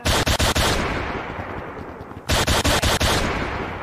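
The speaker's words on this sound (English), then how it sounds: "Please, no more shooting me." A modded player in the VR game Gorilla Tag fires gunfire sounds in two loud bursts of rapid shots, with a noisy rumbling stretch between them and no talking.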